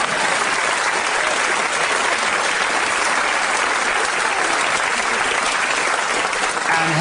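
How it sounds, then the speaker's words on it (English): Loud, continuous studio audience applause on a British comedy word quiz show, a thick unbroken wash of many hands clapping throughout. "a round of applause for an interesting political statement"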